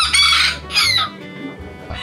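Serama chickens, a tiny ornamental breed, cluck and call loudly at close range in a few short bursts, with a brief crowing-like note among them.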